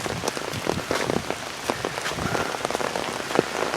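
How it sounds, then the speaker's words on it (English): Heavy rain pours steadily onto an umbrella during a suburban walk on a humid day, a dense continuous patter with sharper drops spattering close by throughout. "I thought it might rain, which is why I brought the umbrella. I just didn't know it would come down so quick or so heavily."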